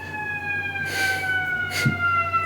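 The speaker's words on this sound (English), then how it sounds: "ambulances in the background because you live off this main street" Ambulance siren passing on a main street, a wailing tone sliding slowly downward, heard alone and fairly close with brief bursts of traffic noise.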